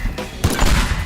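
A bomb explodes in Teardown with a sudden loud blast and rumbling crash after a brief quieter lead-in, close and heavy.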